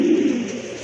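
A pair of Chuina pigeons cooing close by in a low, steady, throaty burble that holds its rhythm without a break, with no other voices or noises in the background.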